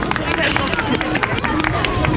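At the MAXRUN 2022 charity run in Žilina, the audience gives brisk, scattered applause with crowd chatter and voices over it.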